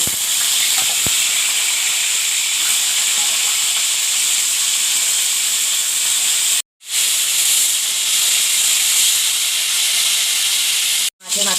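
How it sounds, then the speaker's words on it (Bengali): Hilsa fish heads frying in hot white oil give a loud, steady hiss close by, broken by two brief silent gaps, no voices. "মাছের মাথাগুলো ভাজা হয়ে গেছে"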